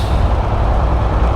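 A truck on a busy road gives a loud, close, rushing burst of noise resembling an air brake hiss, mixed with heavy engine rumble and road roar.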